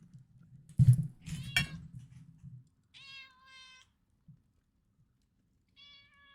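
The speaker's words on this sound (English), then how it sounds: "No, is that your cat?" A cat meows twice close to the microphone, clear harmonic cries separated by a pause, after a burst of low rumbling handling noise at the start; no talk during the meows.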